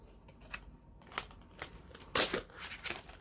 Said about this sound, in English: Bending my scissors.